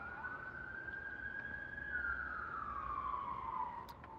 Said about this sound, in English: There is a siren.